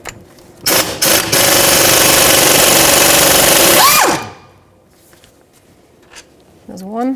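A 3/8-inch impact gun with a 17mm socket and short extension removes wheel hub bolts on a 2009-2014 Nissan Maxima, giving a loud, continuous rattling burst of about three seconds, with a few short clicks around it and talk nearby.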